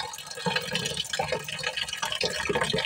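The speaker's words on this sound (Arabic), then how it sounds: "كما كتشوفوا غادي ندير لها الماء" Water pouring steadily into a cooking pot of rice for chicken biryani, a continuous close splashing, gurgling fill with no talking.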